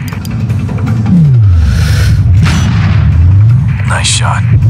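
A sniper rifle fires in a video game, a deep boom set against a loud, steady rumble of engine-like drone and whooshing sweeps that runs throughout.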